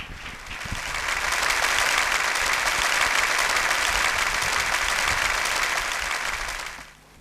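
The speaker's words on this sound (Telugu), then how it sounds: "మనం అందరం చప్పట్లు కొట్టి ఆయన్ని రప్పిస్తాం." A church audience at a fasting-prayer meeting claps to welcome a visiting bishop, swelling into a sustained, dense round of applause that holds steady for several seconds before tapering off at the end.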